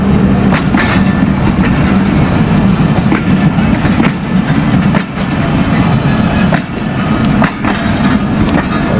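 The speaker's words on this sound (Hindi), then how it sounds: "ये उसकी मेहरान एक्सप्रेस की कोच है।" Mehran Express passenger coaches roll past on rails in Pakistan, a loud, steady rumble close by with a regular clickety-clack of wheels over rail joints throughout.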